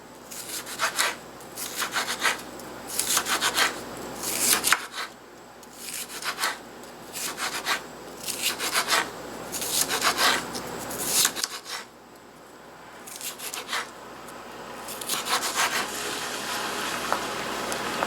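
A knife slices rinsed stir-fry vegetables into thin slivers on a cutting board, with rapid repeated scraping strokes in bursts and two short pauses.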